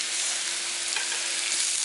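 Peppers and tomato paste fry with a steady, close sizzle in a pan while being stirred, a continuous crackling hiss with no talking.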